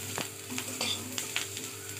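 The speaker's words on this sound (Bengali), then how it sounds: "এবারে একটু হলুদটা ভেজে নিতে হবে যাতে হলুদের গন্ধটা চলে যায়।" Turmeric frying with onions in a pan for flattened-rice pulao, a soft, steady sizzle with a few light stirring scrapes, fairly quiet and close.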